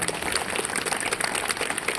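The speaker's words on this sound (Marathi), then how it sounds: "त्यांच्यासाठी जोरदार टाळ्या झाल्या पाहिजे आणि तिच्या माऊलीसाठी एकदा जोरदार टाळ्या झाल्या पाहिजे" Audience applause at a live Marathi shahiri performance, steady dense clapping from a crowd, loud and continuous with no pauses.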